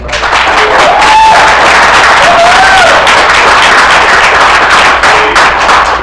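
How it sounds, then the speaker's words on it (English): Loud, dense audience applause and cheering at a Black Power networking mixer, with many hands clapping close by and a few raised voices and whoops rising above the din for the whole stretch. "you got to give them a warm round of applause."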